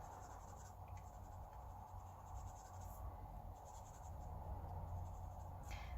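Faint, steady scratching of a marker or pencil coloring small die-cut paper pieces, a soft continuous rub with slight strokes, close and quiet.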